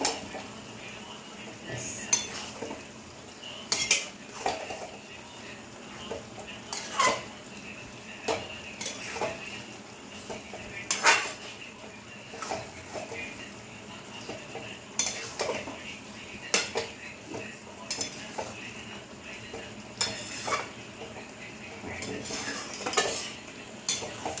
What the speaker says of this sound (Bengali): একটু নেড়ে নেব, নারকেলটা দিয়ে একটু নাড়বো